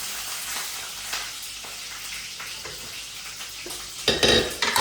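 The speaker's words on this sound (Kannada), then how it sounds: "ಇದು ಚಿಟ್ಟ ಚಿಟ್ಟ ಆದಮೇಲೆ ಕರಿಬೇವಿನ ಸೊಪ್ಪು ಆ್ಯಡ್ ಮಾಡ್ಕೊಳ್ಳಿ" Fresh curry leaves dropped into hot oil for tempering, with a steady close sizzle and light stirring clinks, then a sudden loud spluttering burst of crackle near the end.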